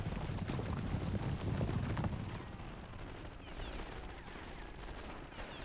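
Distant machine gun fire crackles in a World War One battle in the Great War mod for Total War, rapid rattling bursts that are densest early and then thin into scattered faint shots.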